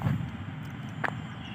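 A passenger airplane flies past toward the airport near a metro station, heard as a steady, even rumble from a distance with no voices.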